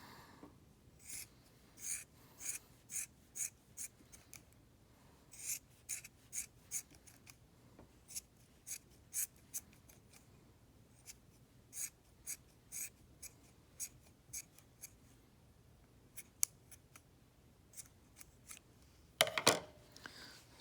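Scissors snip repeatedly through a paper craft shape of a Pokémon's body, trimming a flat bottom so it can stand: a steady run of crisp, close cuts in bursts with short pauses, ending in a louder rustle.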